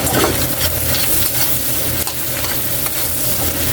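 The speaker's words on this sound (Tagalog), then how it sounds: "Yan lang natin kaili maluto yung bawang golden brown." Garlic fries in oil until golden brown for chicken wings, a dense continuous sizzle with occasional faint stirring, close and loud throughout with no talking.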